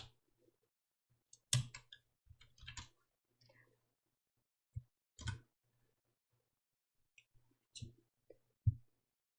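Keys on a computer keyboard, including the Windows logo and ESC keys, are pressed one at a time in sparse, irregular, quiet clicks separated by near silence.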